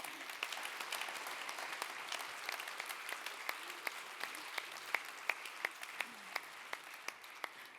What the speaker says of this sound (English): Another round of applause, please.